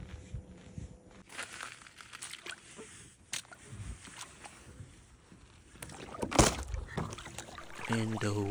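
Kayak or canoe paddling on open water, with splashes and dripping strokes at irregular intervals, fairly close, plus some rustling of the boat and gear; a voice speaks briefly near the end.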